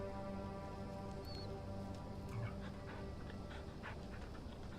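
Soft, steady panting of a dog in the video game Oxenfree II, low and continuous with faint rustling over a quiet ambient background.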